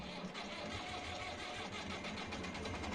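A Rakovica 76 tractor engine in Farming Simulator 22 cranks and catches, settling into a steady, rough mid-pitched running rumble with a continuous mechanical clatter for a few seconds, with no talk.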